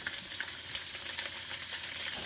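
Sausage browning in a wok, a soft continuous sizzle with faint scraping and crackle throughout, fairly quiet and steady with no talking.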